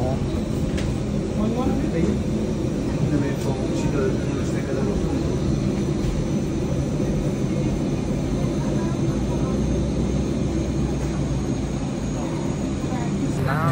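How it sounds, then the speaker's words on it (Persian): A steady, loud roar of jet engines fills the airplane cabin on a flight from Berlin to Tehran, droning without pause while people talk over it. "داخل هواپیما."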